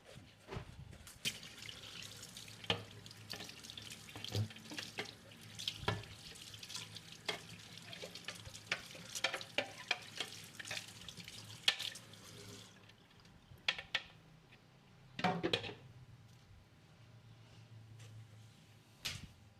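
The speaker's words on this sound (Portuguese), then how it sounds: "tem que lavar para tirar os possíveis resíduos que possa ter" New juicer parts are rinsed under a running tap, with uneven splashing and clattering bursts of water over plastic pieces, fairly quiet and close, stopping and starting; no speech.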